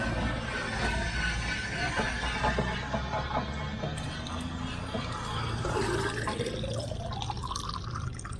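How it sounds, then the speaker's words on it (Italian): Water rushes steadily into bottles being filled outdoors on a mountain pass, a continuous loud gushing, with the pitch rising toward the end as a bottle fills up. "Andiamo a riempire l'acqua."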